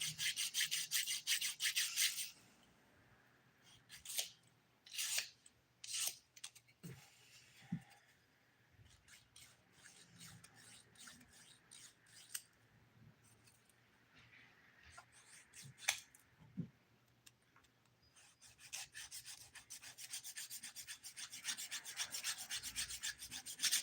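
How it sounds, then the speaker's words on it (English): Close, scratchy strokes of a nail file shaping fingernails come in rapid bursts at the start and end, separated by quieter stretches of taps and handling sounds. "I think we're good to start filing."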